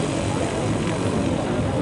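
Aircraft engine at an air show at a French aerodrome, a steady loud drone held throughout as the plane prepares to take off, with faint voices underneath.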